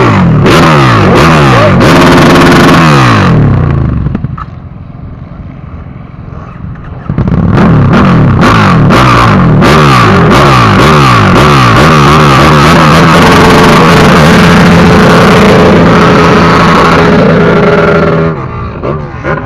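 A KTM 1290R motorcycle engine revs hard and loud in a steady run of rapid rising and falling sweeps, with a short quieter idle stretch in the middle, heard close up in an arena.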